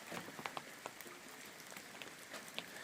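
Light rain falls steadily, a faint, even patter on surfaces with scattered louder drop taps and no voices.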